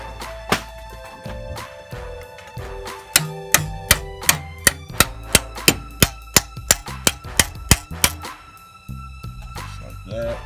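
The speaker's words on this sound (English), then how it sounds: "I'm gonna take a hammer and just tap that back a little more" A rapid series of sharp metallic hammer taps on a metal part near a valve, evenly spaced and ringing, loud and close, with a few scattered knocks before the steady run begins.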